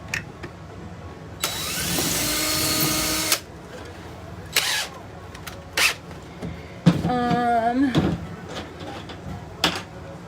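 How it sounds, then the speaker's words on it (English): A power drill reams holes in pallet wood for a spice rack, with one sustained loud whirring burst, a later stuttering, pitch-wavering run, and scattered knocks and handling clatter in between. "we'll just ream our holes a little bit"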